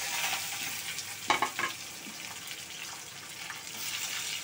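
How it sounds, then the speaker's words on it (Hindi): Two large sliced onions fry in oil, making a soft, steady sizzle with a brief burst of stirring scrapes in the middle, fairly quiet and close. "प्याज तल रही है अपनी अभी।"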